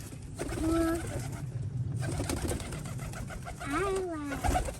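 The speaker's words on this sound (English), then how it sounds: "Brantley, what do you think of the pigeons?" Pigeons in a loft coo in soft, low, rolling calls, a few distinct coos rising over a busy background while people talk nearby.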